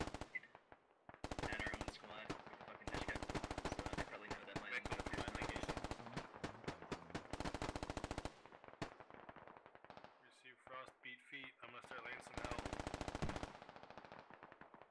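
Loud bursts of automatic gunfire crackle through a military video game operation, long rapid volleys broken by short pauses and scattered single shots, with faint voices in between.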